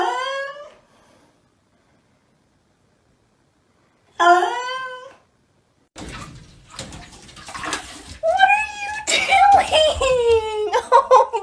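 A cat meows several times, first in two short clear calls separated by silence, then in a run of louder, drawn-out meows over background noise and voices.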